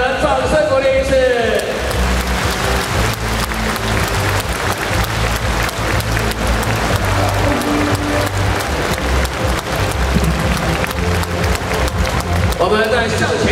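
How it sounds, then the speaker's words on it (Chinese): Large audience clapping for award recipients at a ceremony in Taipei Arena, a loud sustained wash of applause mixed with music and a voice speaking over it. "来，我们给所有的颁奖人掌声鼓励一次。"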